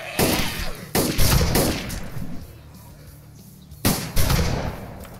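Gunfire while shooting zombies in a video game: several sharp bursts of shots, loud and close, separated by a quieter stretch of lower rumble.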